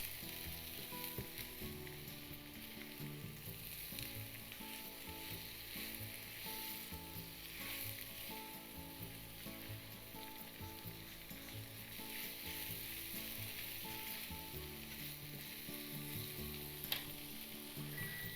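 Curry and cheese tofu bites fry in a pan with a low, constant sizzle and light stirring beneath quiet background music.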